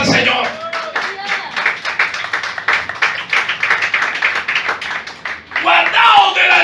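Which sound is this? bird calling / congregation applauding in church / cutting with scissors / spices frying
congregation applauding in church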